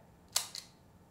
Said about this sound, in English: It's just a very light shutter mechanism.